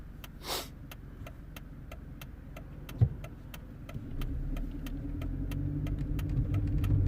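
A Mercedes W203 C-Class with a gear-engagement fault rolls and slows down, its engine a low steady drone with a faint regular ticking throughout and one knock partway, heard from inside the car.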